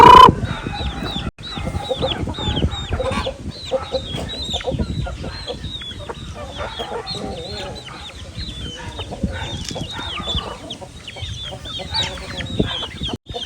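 Several native and heritage chickens, including Rhode Island Reds, cluck and chatter continuously at close range, a busy, overlapping flock of short calls with scattered rustling.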